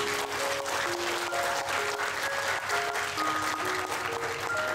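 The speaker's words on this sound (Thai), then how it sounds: "ปรบมือให้รวดเสรีอนุสรณ์หน่อย" Audience applause at a Thai school reunion gathering, steady crowd clapping that sounds somewhat distant and soft, with faint tonal background sounds running underneath.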